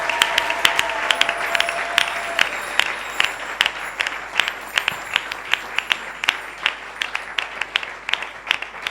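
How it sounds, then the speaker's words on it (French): A church congregation applauding to acclaim God during a service, a dense wash of applause that settles into sharp, evenly spaced rhythmic claps, loud and near. "Est-ce qu'on peut encore acclamer pour notre Dieu?"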